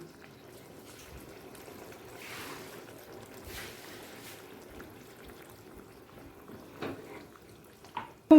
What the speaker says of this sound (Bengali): পনিরটা যে জলে ডুবিয়ে রেখেছিলাম সেই জলটা আমি দিয়ে দিলাম